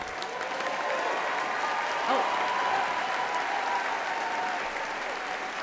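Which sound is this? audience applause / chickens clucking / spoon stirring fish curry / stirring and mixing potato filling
audience applause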